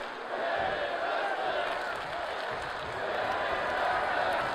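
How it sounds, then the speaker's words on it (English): Arena crowd in WWE 2K24 wrestling fills the space with a dense, continuous roar of massed voices, heard at a distance with a slight swell toward the end. "You hear the crowd chanting, this is wrestling."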